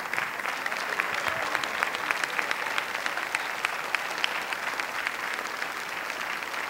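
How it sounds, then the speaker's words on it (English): A church audience at a mayoral candidates forum claps steadily, a dense, moderately distant patter of many hands that holds level throughout without voices. "Now you can clap."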